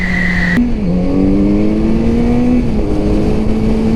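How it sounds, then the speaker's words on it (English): A 2021 Kawasaki Z900 RS Cafe inline-four motorcycle revving, a loud close engine tone that jumps up sharply, dips, then climbs and holds at a higher pitch before easing slightly. "It is my dad's 2021 Z900 RS Cafe."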